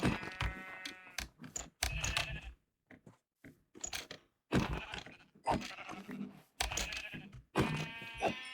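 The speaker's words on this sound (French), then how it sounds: "Je fais juste des moutons blancs pour avoir leur laine." Minecraft sheep bleat repeatedly in short bursts amid game sounds, with a French-speaking player talking between and over the bleats.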